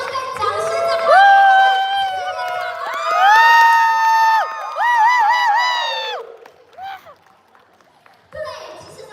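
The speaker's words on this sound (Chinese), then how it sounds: "用尖叫声跟掌声的欢迎" A live campus event audience screams, whoops and cheers loudly in long swelling waves to welcome the show's producer, with brief dips between bursts and a final surge of shrieks near the end.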